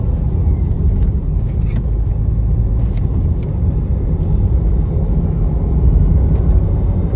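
A 2015 Range Rover Evoque with a manual gearbox, finished in metallic red, holds a road bend at 50 mph, giving a steady, loud, low engine and road rumble with no breaks.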